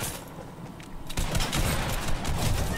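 Gunfire in the video game Fortnite, a dense burst of rapid shots starting about a second in and running to the end, loud and close with no talk over it.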